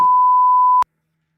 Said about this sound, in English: Throw that beep in for YouTube.